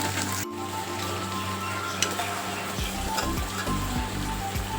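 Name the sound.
paneer frying in oil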